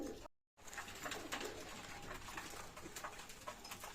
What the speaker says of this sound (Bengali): বিয়ার্স এখানে অনেক কবুতর আছে